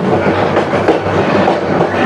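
The Subarna Express from Chattogram to Dhaka, near Tongi in Gazipur, rolls on along the rails with a loud, steady rumble and a continuous clickety-clack from inside the carriage, with no voices.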